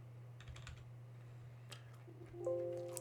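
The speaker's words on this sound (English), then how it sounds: "I push YY twice on the keyboard" A few sharp keypresses on a computer keyboard while working in a Linux terminal, quiet and close over a steady electrical hum, with a sustained tone rising near the end.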